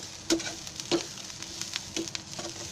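Chopped onion and grated coconut sizzling in a pan for a brinjal and potato sabzi, with a steady frying hiss broken by several sharp scraping stirs at irregular intervals, close and fairly quiet, no talking.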